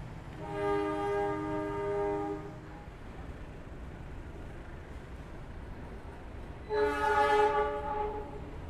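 A departing train horn sounds twice, a long tonal blast then another after a pause, over a steady low rumble of rail traffic at a distance, at a station with trains bound for Surabaya Kota.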